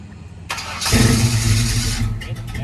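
A 1969 Chevrolet Camaro engine cranks and catches, then settles into a loud, steady rev that holds close by before easing slightly near the end.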